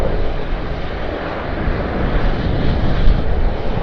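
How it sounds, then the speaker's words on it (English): An Airbus A380 departs Sydney Airport, a loud, steady broadband jet roar that holds throughout with a slight swell toward the end, with no talk over it. "in time to watch the Airbus A380 departure"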